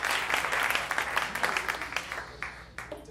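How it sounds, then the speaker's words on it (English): An audience claps at a senior jazz recital. The clapping is moderately loud and thins toward the end, with a few sharp individual claps standing out. "So give yourselves a round of applause."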